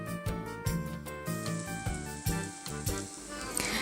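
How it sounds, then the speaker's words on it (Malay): Batter fries in melted margarine in a wok with a soft, steady sizzle, partly masked by rhythmic background music. "Kita gorengkan adunan ini sehingga sedikit kekuningan"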